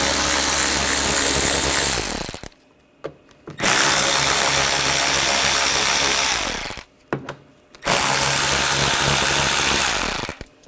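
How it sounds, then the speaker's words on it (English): Screws being backed out of a 2007-2013 BMW X5 front bumper with an 8mm socket on a power driver: three loud, close whirring bursts of a few seconds each, separated by short silent pauses. "Take these screws out. We're going to use a 8mm socket."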